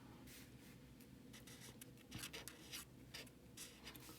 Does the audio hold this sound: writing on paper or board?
yes